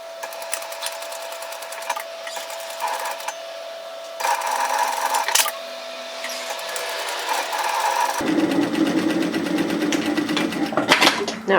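Sewing machine stitching the sides of a knitted yoke sweater, buzzing in several bursts with short pauses, then running continuously and louder toward the end, close and clear.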